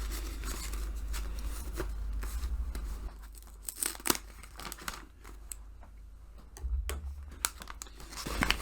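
Scissors cut and tear open a mail package holding a second-hand book, with close, quiet crinkling, rustling and sharp tearing of packaging in irregular bursts.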